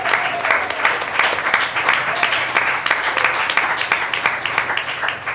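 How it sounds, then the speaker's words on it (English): Loud audience applause at a West Orange, New Jersey town council meeting, honoring youth sports coaches; steady, close clapping filling the whole stretch with no talk over it. "a round of applause for your coaches as well"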